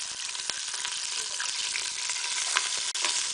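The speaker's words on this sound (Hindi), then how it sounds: "ये ऑयल गया सब इसमें। ठीक है, प्रेशर हमारा गर्म ही था। ठीक है, बिस्मिल्लाह रहमानिर रहीम, प्याज डाल रहे हैं।" Chopped onions go into hot oil in a heated pressure cooker for aloo gobi, giving a steady close sizzle and frying crackle with small pops throughout and no talk.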